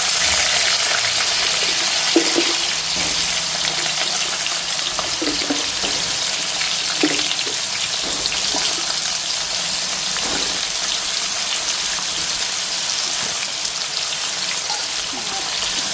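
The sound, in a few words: pointed gourd frying in hot oil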